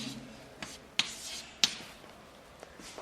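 Writing a characteristic vector by hand, with soft scratching marker or pen strokes and a few sharp taps as the tip meets the board, sparse and close with quiet gaps between marks.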